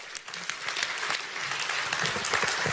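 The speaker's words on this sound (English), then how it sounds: "Give everybody a hand." A large audience at a motivational speaking event breaks into sustained, loud applause, a thick, even wash of clapping that holds steady from start to finish.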